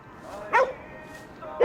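Two short, clear barks from a dog in the video game Ghostwire: Tokyo, about a second apart, heard alone over a quiet background hum.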